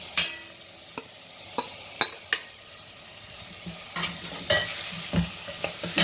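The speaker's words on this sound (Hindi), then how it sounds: "इसे भूनकर इस तरह से अब इसमें ये मसाले वाले आलू भी डाल देंगे।" Spiced potatoes stir-fried with okra in a pan for Sindhi garlic aloo bhindi, a continuous sizzle punctuated by repeated sharp spatula clacks and scrapes, close up and with no voices.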